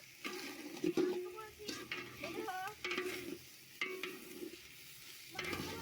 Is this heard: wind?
no